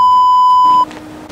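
A house security alarm sounds one loud, steady electronic beep lasting nearly a second before cutting off, leaving faint room noise.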